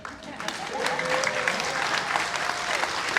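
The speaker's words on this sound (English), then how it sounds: "And we want to give yourselves a big round of applause." Sustained applause from an awards ceremony audience, a dense steady wash of many hands clapping at moderate loudness, with a faint voice or cheer mixed in beneath.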